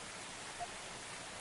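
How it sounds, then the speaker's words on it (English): Rain pours steadily in the video game Coffee Talk, a soft, even, continuous hiss at low volume with no voices and no distinct drops. "It's pouring rain again."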